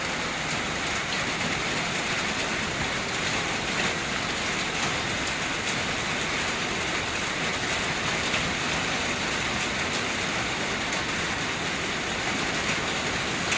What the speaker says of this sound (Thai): ฝนตกเนาะพี่น้องเอฟซี ครับมาแล้วนะครับพายุเริ่มมาแล้วนะครับ